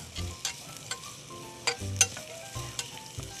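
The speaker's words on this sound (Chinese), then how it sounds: "我会先炒 下 大蒜末、洋葱" Minced garlic and onion stir-fry in a little oil in a preheated wok, a soft steady sizzle marked by repeated close clinks and scrapes of a spatula against the metal.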